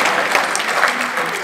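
Applause at a press presentation for the Dijon fair rises as a steady, close patter of clapping hands from a small crowd, with a voice faintly under it.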